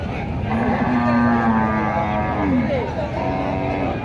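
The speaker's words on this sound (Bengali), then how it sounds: "দেখেন এইদিকে একটা গরু আসছে" A Friesian-looking cow moos loudly and close by at a livestock market in Alamdanga, Chuadanga, a long drawn-out low call followed by a shorter second moo.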